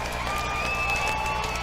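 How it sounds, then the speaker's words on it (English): Football crowd at a Pierre Governors versus O'Gorman Knights high school game, a steady broad roar of cheering and clapping from the stands throughout, with faint voices mixed in. "Crowd getting into it."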